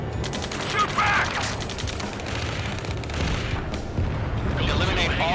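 Combat gunfire in the flight game Ace Combat 7 (Mission 4, hard mode): dense bursts and booming shots crackle continuously, mixed with urgent radio voices talking over the battle.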